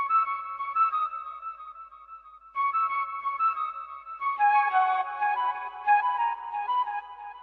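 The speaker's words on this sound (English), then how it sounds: "it's basically just an ambient flute" Soft ambient flute sample from a synth bank in FL Studio, playing a dark, slow melodic phrase of sustained breathy notes in two short passages, moderately quiet and with no talk.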